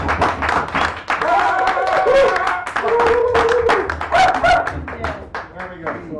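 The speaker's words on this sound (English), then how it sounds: "So, Bracy Dozy, give her a nice round of applause." Audience members at a poetry open mic at Sacred Grounds Cafe in San Francisco clap in a ragged burst of close, crisp hand claps, with people talking over the applause throughout.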